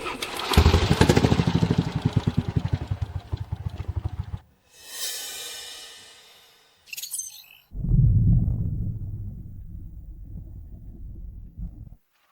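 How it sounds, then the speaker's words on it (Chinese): A newly tuned fishing boat engine, freshly fitted with a larger fuel tank, runs loud and close with a steady pulsing throb, cuts out, gives a brief hissing burst, then starts and runs again before stopping. "发动机刚调试完，你听听这声。"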